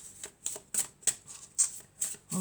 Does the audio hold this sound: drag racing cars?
no